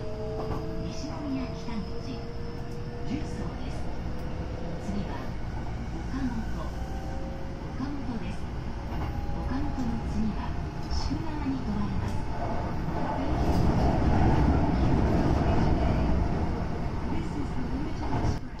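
Hankyu limited express train bound for Osaka-Umeda heard from inside, a steady rumble with rhythmic wheel clatter and faint motor whine that swells louder toward the end, under an onboard announcement.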